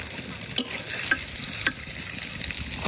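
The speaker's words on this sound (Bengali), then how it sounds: "বেগুন গুলা খুব সুন্দর করে ভাজে নিছি" Eggplant (brinjal) slices fry in a pan with a steady broadband sizzle, broken by three sharp stirring or turning scrapes spaced about half a second apart, close and with no voices.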